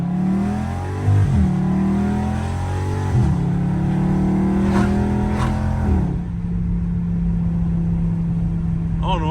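A Chevrolet Camaro ZL1 engine with an aggressive cam revs hard several times, pitch climbing and dropping between gear changes, then settles into a steady loud drone.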